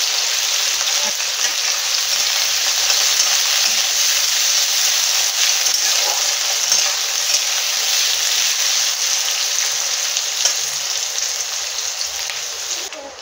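Chopped onion and potatoes frying in a pan, with a steady, loud, hissing sizzle that runs throughout and eases slightly at the end.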